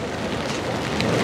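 Rain falling on the streets of Amsterdam near the Wallen area, a dense, even hiss of drops on pavement, close and steady throughout with no talking.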